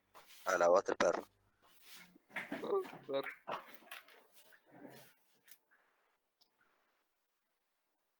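A dog gives a short burst of barking near the start, then quieter sounds follow, with people talking through most of the scene.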